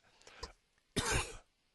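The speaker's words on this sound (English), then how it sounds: "Sorry about the cough, guys." A single cough bursts out sharply after a brief throat-clearing sound, loud and close for a moment before silence returns.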